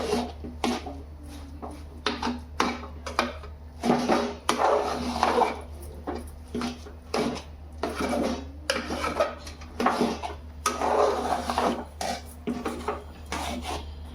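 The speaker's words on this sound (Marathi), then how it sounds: "हे असं चमच्याने काढायचं एका ताटात ठेवायचं थंड व्हायला" Sticky sesame and jaggery tilgul mixture scooped with a spoon onto a plate, giving repeated close scraping and rasping strokes against metal with occasional clinks, over a steady low hum.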